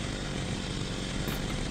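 A chainsaw in the Postal 2 video game runs with a continuous loud, rough engine roar, steady and close throughout.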